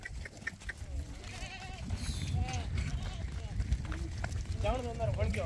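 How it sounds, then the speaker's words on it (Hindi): Goats at a goat farm in Jodhpur bleat intermittently close by while someone talks throughout, with scuffling and movement in the background. "इतनी बड़ी बकरी"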